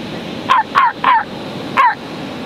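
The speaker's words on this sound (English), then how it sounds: "I got a great dog bark." A dog barks four times in quick, sharp bursts, three close together and one after a short pause, fairly loud against a quiet background.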